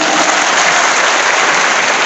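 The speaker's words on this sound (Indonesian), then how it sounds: "Tepuk tangan." An audience at an evening Ramadan religious gathering claps loudly and continuously, a dense, unbroken burst of applause filling the space throughout.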